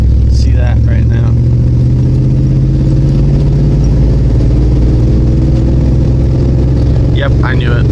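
Ford Bronco II on a test drive with a sticky-shifting manual gearbox, its engine droning loud and steady inside the cab, with a voice talking briefly over it near the start and end.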